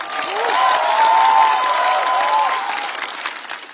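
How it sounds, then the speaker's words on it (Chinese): Steady audience applause in a studio for a roast comedy show, a sustained wash of clapping that swells and slowly fades, with a faint tonal element underneath. "再次掌声送给何洁。"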